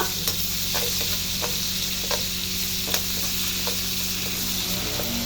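Ginger sizzles in reduced oil as it is stirred, a steady loud frying hiss with regular scraping strokes of the utensil, close and continuous with no talking.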